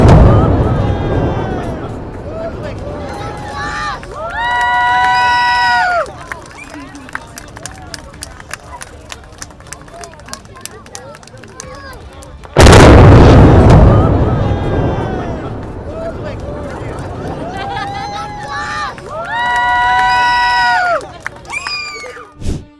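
Old US 281 bridge in Marble Falls, Texas, brought down by demolition charges: a sudden massive boom rolls out over a cheering outdoor crowd, with scattered shouts and clapping before and after the blast.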